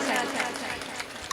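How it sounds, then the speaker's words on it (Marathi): A crowd at a kirtan claps for the women's group in a fast, dense patter that fills the space. A voice talks over the clapping. "टाळी वाजवा एकदम महिला मंडळासाठी"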